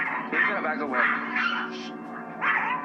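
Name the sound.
dog barking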